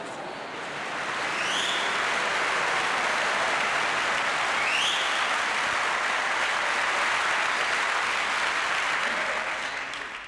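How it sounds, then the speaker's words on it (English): Sustained audience applause for comedian Redd Foxx on a live vinyl recording, a dense even roar of clapping that swells in, holds steady for about ten seconds and tapers at the end, with a couple of faint whistles. "Thank you very much if you applauded for me."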